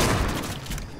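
A quick burst of gunfire in a shooter video game, several rapid, loud, booming shots packed into about a second.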